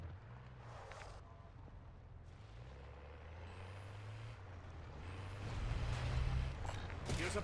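A vehicle driven in MW3 Zombies, a steady low engine rumble that swells louder toward the end, with no talk over it.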